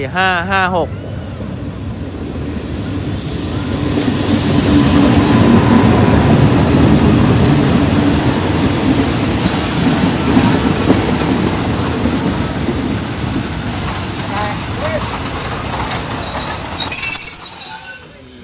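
GEA 4556 locomotive hauling train 254 from Lang Suan to Thonburi pulls into Nong Pla Duk station, a loud steady rumble of wheels and carriages with squealing brakes rising near the end, over a busy platform.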